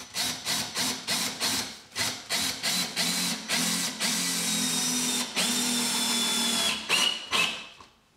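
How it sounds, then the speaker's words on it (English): A power drill drives a screw into a timber batten fixed to a wall, opening with a series of short trigger bursts before settling into a sustained whirring run that ends with a few brief pulses. No voice is heard over it. "You can now drive in another screw."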